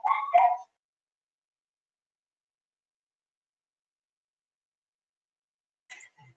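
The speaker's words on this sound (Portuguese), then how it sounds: "tem um cachorro que está animado aqui" A dog gives one sharp, close bark-and-yip burst, followed by long silence and then a faint, brief second sound from the dog near the end.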